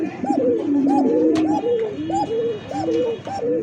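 Pigeon cooing at a bird market in a pen with an egg, a fancy breed such as Lahori, Bombay, satin or pouter, giving a repeated series of soft rising-falling coos close by over steady background murmur.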